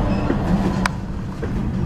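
A train rolls past close by on the rails, a loud, continuous rumble of wagons with a brief metallic squeal partway through.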